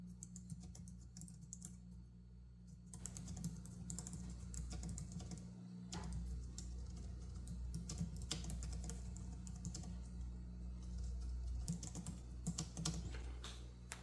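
Typing on a Logitech MX Keys S for Mac keyboard: a steady run of soft, fairly quiet key clicks in quick irregular rhythm, close to the microphone, with a low hum underneath and no talking.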